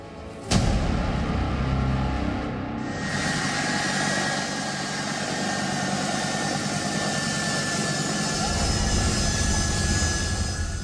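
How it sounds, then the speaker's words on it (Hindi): A US Army C-17 military transport aircraft at Kabul airport gives a loud, steady jet-engine roar with a rising whine, after a sharp opening bang. "काबुल के हवाई अड्डे पर यह अमेरिकी सेना का C-17 विमान पहुंचा था।"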